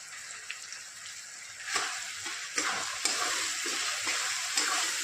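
Pav bhaji masala being sautéed in a pan for a Maharashtrian street-style pav bhaji, a steady close sizzle with a few scraping stirs and soft clicks, no talking.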